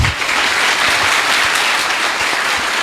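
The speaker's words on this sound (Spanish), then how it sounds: "Aplauso pues para el hermano." Loud, dense clapping from a church audience at a religious debate, steady and unbroken for about three seconds.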